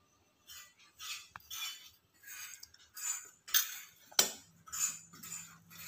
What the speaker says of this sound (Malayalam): ഇളക്കിക്കൊണ്ടിരിക്കുക.